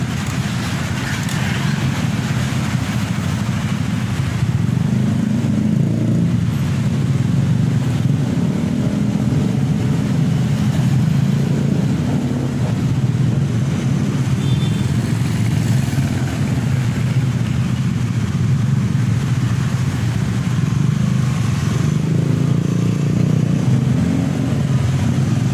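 Busy roadside traffic with a premium Sidareja–Jakarta bus getting ready to depart, a steady loud low engine rumble and passing vehicle noise running continuously throughout.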